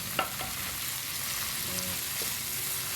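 Chopped tomatoes go into a hot pan for adobong posit, a steady loud sizzle of frying with a couple of sharp stirring scrapes near the start, no talking.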